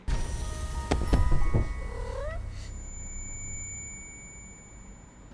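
A cat in the video game The Baby In Yellow lets out a few sharp meows that rise and bend in pitch, following some thumps and clatter, then a quiet electronic tone hangs on afterward.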